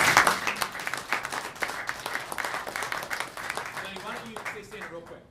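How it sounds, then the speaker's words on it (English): A round of applause from a room of attendees at a Philadelphia kick-off meeting, dense clapping that tapers off toward the end while a speaker's voice carries over it. "Give a round of applause."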